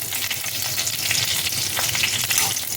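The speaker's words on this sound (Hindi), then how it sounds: "और अभी ये अच्छे से भून गए हैं हरी मिर्च और करी पत्ता" Green chillies and curry leaves fry in oil over a low flame, a steady bright crackling sizzle heard up close and unbroken, with no talking.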